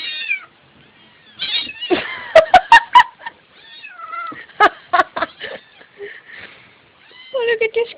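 Angry cats yowl and caterwaul in drawn-out, rising cries, loud and close, broken by sharp clicks and thumps, with several distinct meows spread across the stretch.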